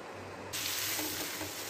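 A sandwich meets a hot tawa with ghee on low heat, and a broad steady sizzle starts abruptly and holds, close and even.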